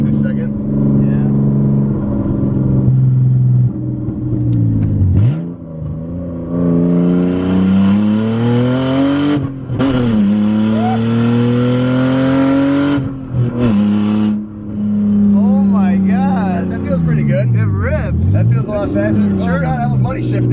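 An M50-swapped BMW E30 accelerates hard on the road, its engine note rising loud and close through the gears with brief dips at the shifts, steady and present throughout.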